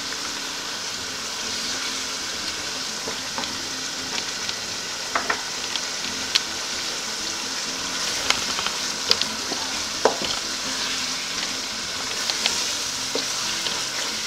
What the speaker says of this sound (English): our egusi is just frying slowly on fire